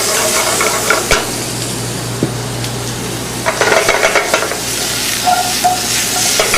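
Garlic sizzles and fries steadily in a pan, a loud continuous hiss with occasional stirring clatter up close and no talking.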